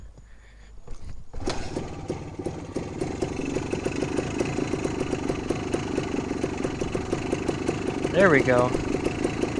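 A restored 1974 Honda MT250 motorcycle with a freshly repaired throttle settles into a steady idle, its small engine putting out an even, close mechanical putter while someone speaks briefly over it.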